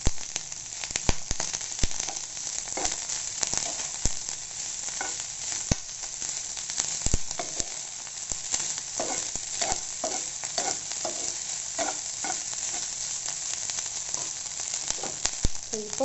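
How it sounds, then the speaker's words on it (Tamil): Rice with brinjal podi is stirred and tossed in a hot frying pan, a steady sizzle broken by frequent scraping clicks of the spoon against metal, close and continuous with no talking. "இந்த ரைஸ் ஆட் பண்ணி நல்லா நம்ம மிக்ஸ் பண்ணி எடுக்க போகிறோம்."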